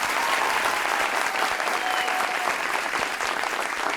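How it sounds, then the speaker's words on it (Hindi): Studio audience on a Pakistani TV talk show breaking into sustained, dense applause, loud and even throughout with no voices over it. "नाम लिया नहीं फिर भी तालियां बज गई"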